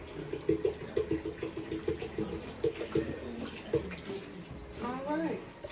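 Water pouring into a large cup for a Kool-Aid drink, a soft trickling fill heard beneath steady talking by a woman, growing briefly louder near the end.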